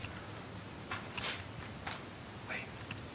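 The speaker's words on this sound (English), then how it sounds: "when the crickets stop" Crickets chirp faintly at night, with a thin steady trill behind scattered soft rustles and footsteps of people moving about an old theatre.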